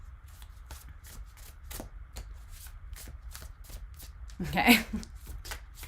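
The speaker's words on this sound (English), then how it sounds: "let's give it a few more shuffles and see." Rapid riffle of a tarot deck being shuffled, a rhythmic series of crisp flicks close up, ending in a louder bridge, with a brief spoken word.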